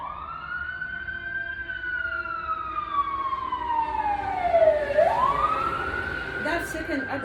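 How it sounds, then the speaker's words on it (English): An ambulance siren wails in a long sweeping tone that falls and then rises again, heard from moderately close, with traffic noise in the background. "another ambulance"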